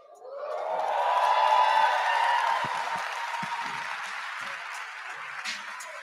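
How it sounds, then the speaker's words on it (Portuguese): A talk audience at a lecture event bursts into applause, rising quickly to a dense wave of clapping that gradually thins and fades, with scattered voices and cheers mixed in. "se essas palmas for pra mim, gratidão, valeu"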